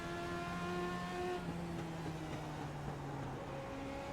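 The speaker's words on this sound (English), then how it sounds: "Car coming up looking good coming off of 2." A race car comes off turn two at the Bullring track, its engine a steady droning whine with shifting tones as it passes, heard at a moderate distance with no talking.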